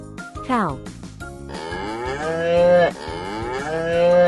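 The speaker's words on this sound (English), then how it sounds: "Cow." A single cow moos loudly and close up, a long drawn-out call with a sliding pitch lasting several seconds, heard alone with no talking.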